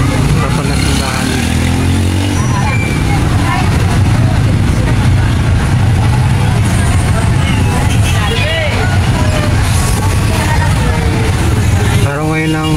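Dense road traffic with buses and cars rumbles close by in a loud, continuous wash of engine noise, with a passing vehicle's whine swelling near the end.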